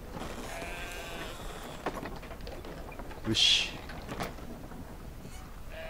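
Sheep bleating in the video game Brothers: A Tale of Two Sons, one short bleat standing out over steady game ambience while someone talks briefly.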